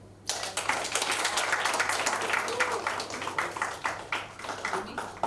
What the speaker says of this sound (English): Everybody please give her a big hand. Yeah, big round of applause.